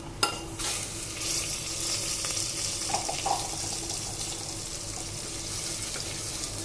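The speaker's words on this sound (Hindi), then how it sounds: "जो चावल धो कर रखे थे वो ऐड कर रहे हैं" Washed, wet rice tipped into a pan of whole spices frying in oil, with cumin, fennel, black pepper, bay leaf and dried red chillies, a sharp splash-like burst, then a loud steady hiss with occasional stirring scrapes, no talking.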